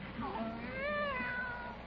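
A domestic cat on a farm gives a single drawn-out, rising and falling meow, close and fairly clear against faint background noise.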